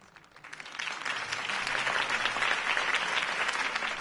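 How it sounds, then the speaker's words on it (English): Applause from a crowd in the video game Batman: The Telltale Series builds quickly and then holds steady as dense, continuous clapping, loud and close, with no talking over it. "could have heard that applause"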